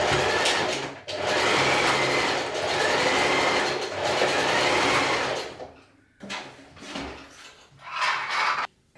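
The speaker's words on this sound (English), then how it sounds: "you're going to change your machine back to a straight stitch for this part." A sewing machine runs a straight stitch along a skirt waistband, whirring in long steady runs with short pauses between them, then shorter bursts of stitching toward the end.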